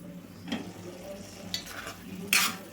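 A spoon scrapes through ridge gourd and tomato curry cooking in a pan over a low flame, three distinct stirring strokes over a faint simmer, the last one loudest.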